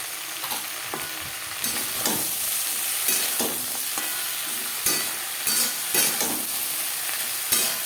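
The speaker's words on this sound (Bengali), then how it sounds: "বেগুনের সাথে বেশ ভালো করে মিক্স করে দেবো" Eggplant stir-fried with ginger and green chili paste in a hot pan, a continuous loud sizzle broken by repeated scraping strokes of a spatula, with no voices.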